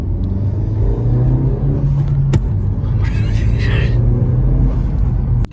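A 2020 Honda Civic Si fitted with a PRL Cobra cold air intake idles with a loud, steady low rumble, then revs once with a short rising roar; a voice talks briefly in the background.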